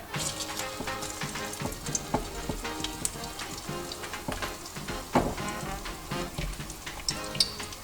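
Egg-dipped eggplant slices frying in a pan, Macedonian fried vegetables: a steady, close crackling sizzle with dense popping spatters throughout, no voices.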